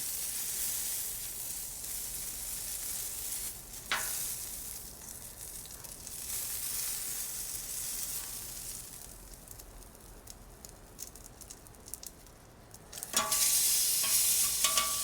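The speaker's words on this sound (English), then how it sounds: "But I want to sizzle that up a little bit here." A steak cooked from frozen sizzles loudly on a hot flat top griddle, a continuous crackling hiss with a few scraping clatters and a louder burst of sizzle near the end.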